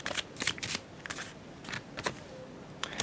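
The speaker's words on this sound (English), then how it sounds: "And you see me shuffling right now." Tarot cards being shuffled by hand, a series of crisp riffling and flicking bursts in quick clusters with short pauses between, close and fairly quiet.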